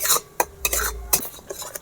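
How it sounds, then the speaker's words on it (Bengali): A spatula stirs turmeric, chopped tomato, chili powder and salt frying in a pan, giving a close series of scraping strokes and metallic clinks with a few sharp knocks against the pan and little audible sizzle. "ভালো করে ভেজে নিতে হবে"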